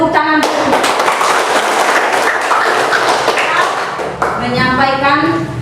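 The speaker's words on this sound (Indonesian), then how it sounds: "Tepuk tangan." A classroom of pupils claps their hands together after a student's answer, a dense burst of loud, close clapping that fills the clip, with a voice briefly heard at the start and again near the end.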